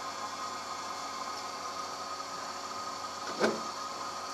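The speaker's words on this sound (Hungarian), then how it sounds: "Most halljuk, hogy a ventilátor elkezdett zúgni." Continuous whooshing hum of a Buderus Logamax GB122 boiler fan running steadily, with a single brief knock partway through, no voices.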